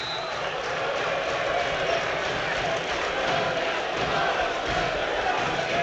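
Football crowd at a Bournemouth v Manchester United match, a steady dense roar of chanting and noise from many fans that holds at full level throughout, with no breaks.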